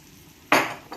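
Oil poured into a hot pan of cooking moong dal dosa sets off a sudden, loud burst of sizzling that starts abruptly and holds for a moment, followed by a brief second flare.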